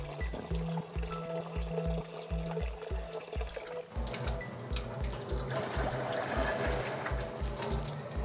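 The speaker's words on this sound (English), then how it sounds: "The water is used in conjunction with sodium hydroxide to make our lye or our base for pouring our soap." Rainwater is poured to mix with sodium hydroxide for soap making, giving a continuous splashing flow. The pour grows brighter and fuller partway through, over a steady low rhythmic thump in the background.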